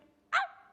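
A single short, sharp bark from a child imitating a dog, loud and close, after a moment of quiet.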